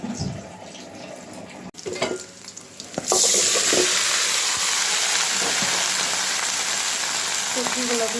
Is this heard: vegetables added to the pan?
yes